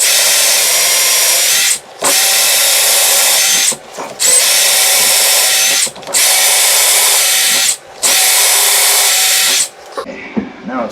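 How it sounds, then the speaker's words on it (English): Power drill boring into a kitchen cabinet during installation, five loud, close bursts of high-pitched whirring of about two seconds each, separated by short pauses, ending with some handling clatter. "I got to get a drill bit in there, nice and flush"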